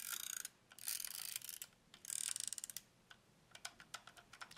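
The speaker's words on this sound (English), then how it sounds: "Now all you have to do is keep winding until the wind lever stops." Film advance lever on a Fuji GS645 medium-format camera loaded with 120 film, wound repeatedly: bursts of close, dry ratcheting clicks in quick rhythmic strokes, then a run of separate ticks as the lever nears its stop.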